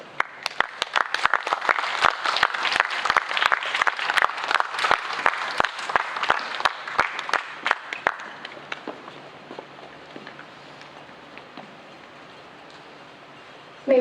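An audience applauds university category finalists at a Macao English poetry writing and recital contest: loud, dense clapping with sharp individual claps standing out, easing into thinner scattered claps and then fading away near the end.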